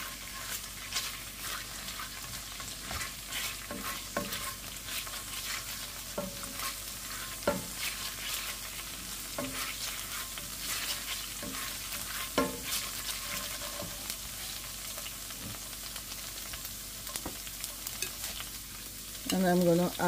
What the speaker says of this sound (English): I'm gonna add the sage leaf to it.